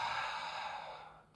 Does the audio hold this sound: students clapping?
no